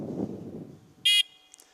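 A small buzzer rings once in a short, sharp electronic burst after a voice trails off, followed by a faint tail of quiet.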